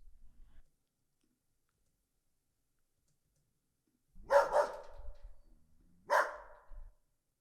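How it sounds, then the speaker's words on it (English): A few dogs bark in short isolated bursts within an ambience sound effect, two separate barks with a pause between, otherwise near-silent. "solo the dogs"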